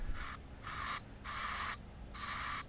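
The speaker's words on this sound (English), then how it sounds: "it's good maintenance to lubricate these every now and then. And I use this aerosol can" Aerosol lubricant can sprayed onto the hinges of a Lonestar Grillz offset smoker, four short hissing bursts with brief pauses between, close and fairly quiet.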